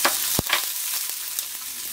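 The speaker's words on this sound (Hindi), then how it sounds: "तो इसको हम चलाते हुए थोड़ा फ्राई करेंगे सॉफ्ट होने तक" Chopped onion frying in hot oil with cumin, asafoetida and green chili, a dense close sizzle broken by a few sharp clicks of stirring.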